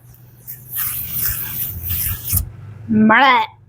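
Makeup setting spray hisses in a couple of short bursts close by, followed by a voice speaking briefly.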